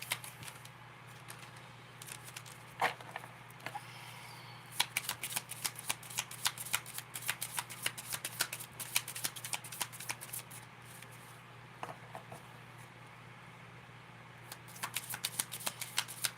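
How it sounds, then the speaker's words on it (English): Tarot cards shuffled by hand in a repeated riffling rhythm, crisp close flutters in bursts over a steady low hum, with brief pauses between rounds and no talking. "which is just me pulling cards and reading the cards"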